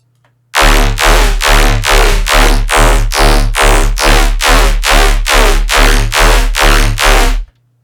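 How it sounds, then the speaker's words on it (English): Synth bass patches from a Serum Square*4 generator rack in Ableton, randomized between hits: a loud, distorted, buzzy bass note repeating about fourteen times in a steady rhythm, each a fresh timbre, with no talking. "Every time that we hit randomize, we're gonna get a brand new bass sound."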